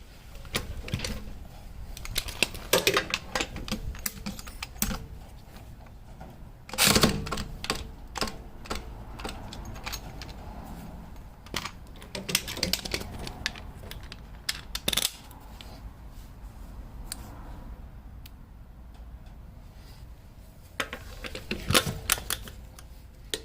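A Harbor Freight Earthquake XT 12V 3/8-inch cordless torque ratchet wrench gives bursts of close mechanical ratcheting and sharp clicks spread across the stretch, with quieter handling noise between.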